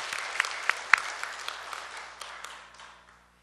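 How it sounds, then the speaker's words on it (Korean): A small church congregation applauds its Wednesday worship team, with a few sharp close claps standing out from the even clapping before it thins out and dies away. "우리 수요 찬양팀한테 우리 박수 한번 합시다"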